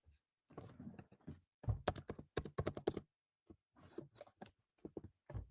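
Bursts of typing on a computer keyboard set to Ukrainian, close, quick clusters of key clacks separated by brief pauses, with no talk.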